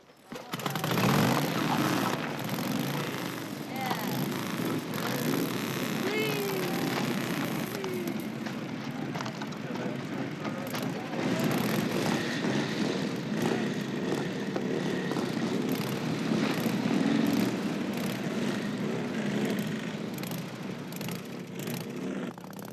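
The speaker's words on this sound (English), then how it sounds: "Hey, man, this is our choppers, Charlie." A helicopter roars loudly and continuously through a film chase scene, its engine and rotor noise filling the whole stretch with a dense mechanical drone and no speech.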